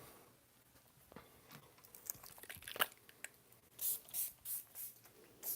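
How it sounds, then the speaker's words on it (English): Several short hissing bursts of a spray bottle of lavender and sage spray, evenly spaced near the end after quieter rustling, close and fairly distinct. "spray a little lavender and sage"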